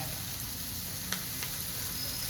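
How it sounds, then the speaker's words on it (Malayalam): Mushrooms sauté with salt in a pan, giving an even, gentle sizzle and fry throughout, with a couple of faint clicks from stirring. No one speaks. "നന്നായിട്ട് വഴറ്റി കൊടുക്കാം അതിൽ ഇച്ചിരി അതിൽ കുറച്ച് നമുക്ക് ഉപ്പിട്ട് കൊടുക്കാം"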